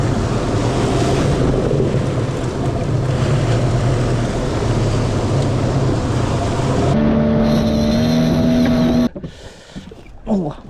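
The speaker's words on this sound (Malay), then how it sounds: "Ombak besar juga." Big ocean waves wash and slap around a small 15-foot fishing boat out fast trolling, with rushing water and wind buffeting the microphone, a motor hum joining later before the noise drops away near the end.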